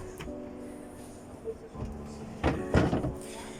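Kitchen drawers sliding open and shut in a Rapido C50 low-profile camper at a camper show, a few soft close thumps and runner rattles close by over a faint room hum.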